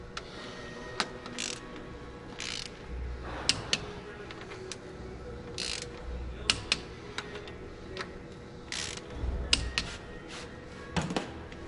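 A torque wrench tightens connecting rod bolts during a Cummins ISL piston install, with scattered sharp metallic ticks and clicks plus low thuds at irregular intervals, close and fairly quiet in a workshop.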